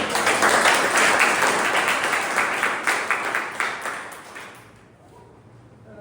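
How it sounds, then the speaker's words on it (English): A Toastmasters club meeting audience gives a loud, sustained round of applause, dense clapping that fades out near the end. "Can we have a huge round of applause?"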